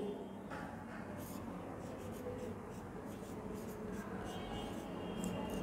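Chalk scratches faintly in short strokes across a classroom board during a third-grade Hindi lesson, set against steady room noise and soft background voices.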